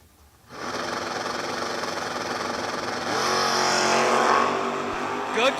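Drag race cars, one a first-generation Camaro, launching at a King of the Shore event: a loud, sustained engine roar swells abruptly after a brief quiet start, with an announcer talking over it.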